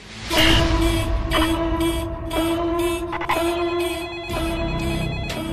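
A telephone rings with repeated electronic bell bursts in a steady rhythm, each ring separated by short gaps, loud and close with no voices.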